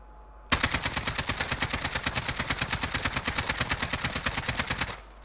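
Steady rapid-fire burst from a high-recoil gun in Warzone, roughly four and a half seconds of evenly spaced, loud, close shots that start abruptly and stop cleanly, with nobody speaking.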